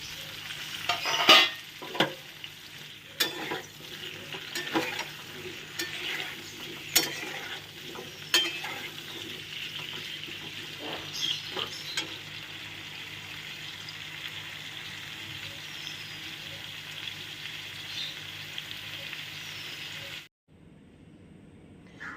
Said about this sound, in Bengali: এবার আলু কটাও ভেজে নেব।